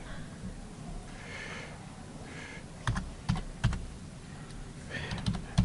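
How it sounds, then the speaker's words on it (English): Someone types a student ID and password on a computer keyboard, producing a few scattered, faint key clicks in small bursts over a quiet room hiss. "type in your student ID number. And then your password."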